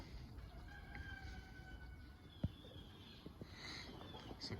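Chickens, including a rooster crowing, sheltering out of a cold wind; faint crows and clucks come from a short way off over steady wind noise, with one sharp knock partway through.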